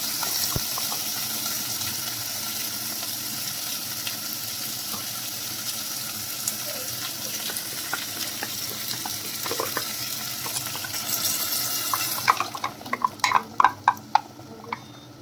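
Paste for matka paneer butter masala fries in a pan with a steady broadband sizzle for most of the time, then the hiss drops away and the spoon stirs it in a run of loud, close scrapes and clacks. Nobody speaks.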